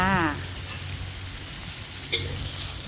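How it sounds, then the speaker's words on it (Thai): Cucumber, tomato, carrot and onion are stir-fried in a pan for Thai sweet and sour shrimp with pineapple, giving a steady close sizzle with a sharp clink of the utensil partway through and a brief voice at the start. "เราก็ใส่ แตงมะเขือเทศ แครอทหอมใหญ่ที่เราหั่นไว้นะคะ ลงไปผัดนะคะ"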